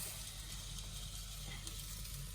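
Food for a beef and beer stew frying in a pan while being stirred and turned until golden brown, a faint, even sizzle with low rumble underneath.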